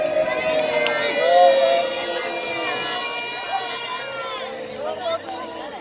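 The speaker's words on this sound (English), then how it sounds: "Cheer now for Duke William of Normandy, leading his troops in person." Crowd noise at a 2018 Battle of Hastings reenactment, a loud, steady wash of cheering and shouting spectators with a swell around the middle, then carrying on at a lower level, mixed with scattered voices.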